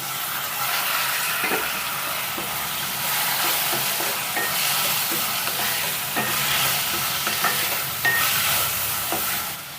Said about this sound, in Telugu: ఇప్పుడు ఇందులోకి ఒక మీడియం సైజ్ టమాటాని ఇలా కట్ చేసి వేస్తున్నాను